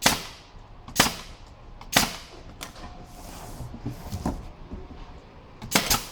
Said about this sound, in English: Make sure you staple the fingers with the finished end.